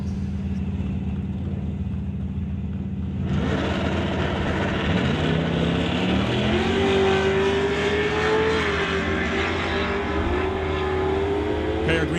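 At a drag strip, a 1969 Mach 1 and a 1999 Camaro launch in a race, a low idle giving way to loud roaring engines whose pitch climbs through gear changes, continuous and strong throughout.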